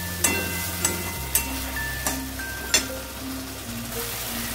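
Spices frying in oil for a pea dal fritter curry, a soft steady sizzle with a few light taps of a spoon stirring the pan, close and quiet with no voices.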